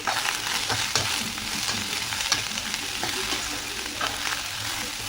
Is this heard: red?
yes